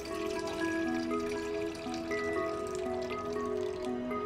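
Water runs into a cooking pot on the stove while cauliflower gratin is being prepared, a steady trickling pour with rising ringing tones as the pot fills, close and continuous.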